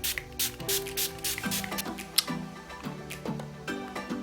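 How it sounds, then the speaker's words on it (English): Quick hissing spritzes of a makeup setting spray bottle onto a face repeat in short bursts over soft background music. "I'm just gonna spritz my face"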